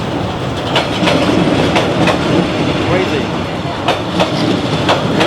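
A train rumbles past at very close range in Vietnam, loud and steady, with rhythmic clickety-clack of wheels over rail joints and a person briefly exclaiming over the din.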